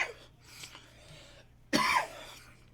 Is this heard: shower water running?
no